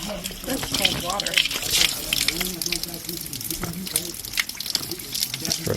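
Cold mountain water gushes steadily from a tap, splashing and trickling close by, with voices talking over the flow.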